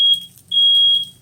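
A smoke alarm goes off in a kitchen where veggie burgers are being cooked, giving two shrill, piercing beeps, the second held longer, loud and close.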